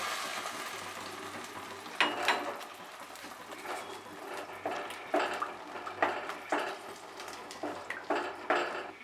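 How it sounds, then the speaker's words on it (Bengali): Gokul pitha fry in oil in a wok with a steady, soft sizzle, while a utensil gives occasional clinks and stirring scrapes against the pan, and no one speaks. "এভাবে সবকটা পিঠে ভেজে নেব আর রসে ডুবিয়ে দেব।"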